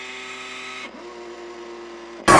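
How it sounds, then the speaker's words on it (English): The servo motors of an Omnibot 2000, a 1980s toy robot, give a close, steady electric whine that drops in pitch partway through and then cuts off at a sharp, loud click. "I absolutely love the sound of his servo motors."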